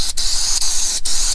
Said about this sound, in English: This gun is pretty cool. You can really adjust the spray pattern on it.